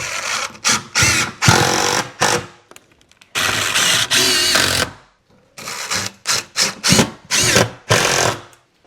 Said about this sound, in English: you definitely want to screw it to the back wall because otherwise it gets a little wobbly